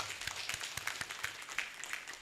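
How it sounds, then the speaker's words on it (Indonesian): Scattered hand clapping from a crowd at a formal ceremony, brief and moderately close, with uneven individual claps rather than a sustained roar. "Tepuk tangan semua."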